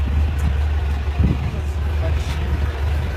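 Someone's 1967 Cal Look Volkswagen cruising, a steady low engine rumble heard from inside the car while people talk over it.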